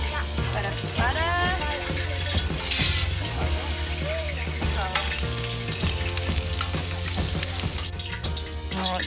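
Cajun-battered lemon fish fries in butter on an outdoor barbecue, a constant crackling sizzle heard close up while music plays loudly throughout.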